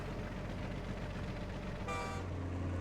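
Train horn honking in Captain of Industry, a single loud tonal blast near the end over a steady drone of game background noise.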